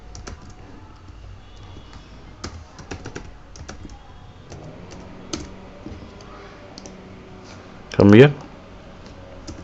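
Typing a Java program on a computer keyboard: bursts of close key clicks in an uneven rhythm, with brief pauses, while a person talks quietly.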